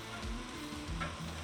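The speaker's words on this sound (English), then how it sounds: "the eggs are ready to flip" Eggs frying in a pan for a homemade breakfast sandwich, a steady close sizzle with a few soft scrapes and bumps as they are turned, and no voices.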